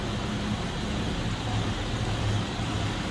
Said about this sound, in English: Guess it sounds as you would expect a older inline 6 to sound